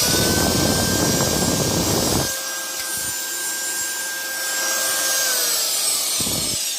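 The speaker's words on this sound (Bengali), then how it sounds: "দেখেন এই যে মেশিন চলতেছে" A handheld cutting machine's motor, freshly fitted with new carbon brushes, whines loudly for a couple of seconds, then winds down to a lower hum before briefly revving again.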